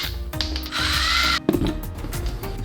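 Screws are being taken out of the tip of a Daiso soldering iron. A short, steady, whining power-tool run sounds up close, followed by small clicks and handling knocks.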